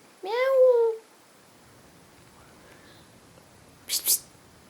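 A person imitates a cat with one drawn-out, rising-and-falling meow, fairly close and clear, followed by quiet room tone and a couple of short, soft clicks near the end.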